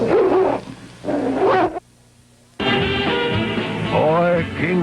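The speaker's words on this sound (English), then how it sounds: "What's that stupid dog doing?" A dog named King in a 1976 Hoolihan & Big Chuck comedy sketch barks and whimpers in a loud burst, breaks off into a short near-silence, then returns with strained yelps and whining cries.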